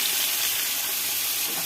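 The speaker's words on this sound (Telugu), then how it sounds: "ఇది వేగింది కానీ ఇప్పుడు దీంట్లో ఆలు వేసుకోవాలి." Oil and seasoning sizzle steadily in a pan while a potato fry is cooked, a loud, even hiss that runs unbroken and close throughout.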